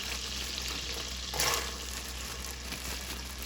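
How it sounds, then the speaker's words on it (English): Onions sauté in melted butter with a continuous, close sizzle and a brief louder burst of stirring partway through, heard without any talking. "So we saute them."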